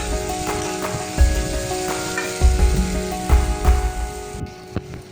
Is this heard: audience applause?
no